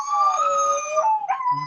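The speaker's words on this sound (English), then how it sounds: "The dogs, by the way, are complaining right now." Dogs at a family home howl in long, wavering, siren-like tones that rise and fall, fairly close and loud, with a second voice joining near the end and no talk over them.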